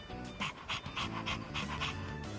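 Dog panting in Persona 3 Reload, quick steady rhythmic breaths, close and clear over a soft background hum.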